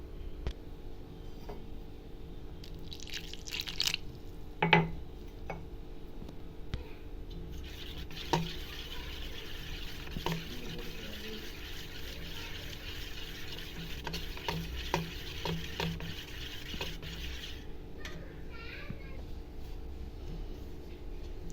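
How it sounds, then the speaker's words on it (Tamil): A whisk stirs bajji batter in a bowl, a steady wet swishing with occasional clicks against the bowl's side, continuing for a long stretch without talk. "ஒரு விஸ்க் யூஸ் பண்ணி கட்டி இல்லாமல் இதை மிக்ஸ் பண்ணிக்கலாம்"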